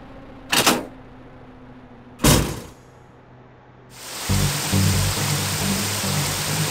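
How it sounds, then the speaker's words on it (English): Rushing water in the video game Parasite Eve 2 swells into a loud, steady hiss after two short sharp clicks, filling the scene with no voices over it. "Can't really hear me with the water"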